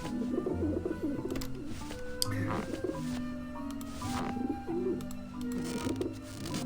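Pigeons in the Grim Fandango video game coo repeatedly over continuous game music, with a voice speaking intermittently on top.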